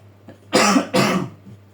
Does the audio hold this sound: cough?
yes